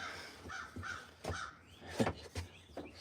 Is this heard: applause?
no